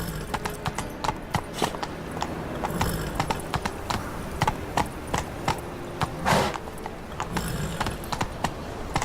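Hooves clip-clop in a steady trotting rhythm as a horse moves along in the video game The Witcher 3, with the regular impacts close and clear over faint background ambience.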